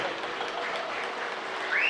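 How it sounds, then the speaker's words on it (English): Crowd applause at an outdoor steam engine show at a threshers reunion in Mount Pleasant, Iowa: steady, dense clapping from a large audience, fairly distant and continuous throughout. "Give them a big round of applause."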